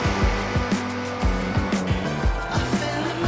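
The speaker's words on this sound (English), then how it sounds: "you can hear that turbo V6 roar" A Ford Raptor truck's turbo V6 engine in a racing video game revs up and down repeatedly with rising, shifting tones, loud and close, with a faint tire squeal in the background.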